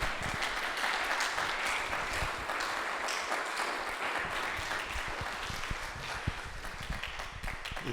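A sustained round of audience applause for two rabbis at a synagogue discussion event, dense, even clapping that holds steady throughout with no break.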